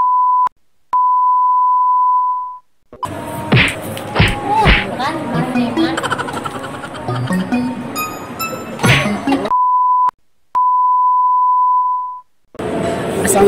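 An ATM's reminder alarm sounds as the card ejects: clean, steady electronic beeps, one short then a long tone, cut off by a burst of clattering and handling noise, then a long beep again and more clatter.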